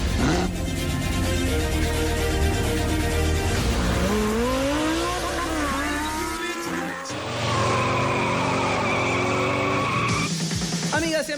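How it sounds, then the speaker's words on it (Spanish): Race car engines revving with tires skidding and squealing, mixed with music for a Spanish-language motorsport radio show intro; loud, continuous sweeping engine whines and screeches that cut and return partway through. "Pilotos, enciendan sus motores."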